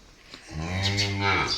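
A Khillar cow lets out one long, loud, drawn-out moo that swells and holds steady before fading, close by with little else around.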